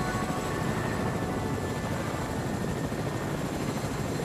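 A helicopter flies in the video game Fortnite, making a constant, moderately loud rotor drone with a low rumble that holds steady and never changes.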